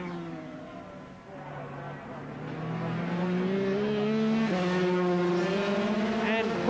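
250cc racing motorcycles at speed at Donington Park in 1988, a high, sustained engine whine rising in pitch as they pass, heard under a commentator's voice over a broadcast.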